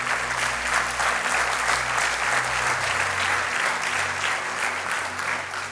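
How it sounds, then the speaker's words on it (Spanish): A church congregation applauds steadily through almost six seconds, a dense wash of many hands that stays loud and even, with a low instrumental hum beneath it and no talk over it. "dale ese aplauso al Señor."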